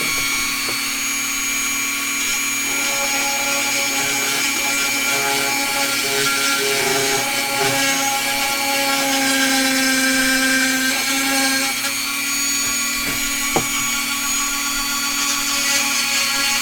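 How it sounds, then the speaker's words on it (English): A Dremel rotary tool runs loud and close during a glass build, giving a sustained high-pitched whine for the whole stretch with slight shifts in pitch as it bites, and one brief knock near the end. "Okay, Dremel incoming."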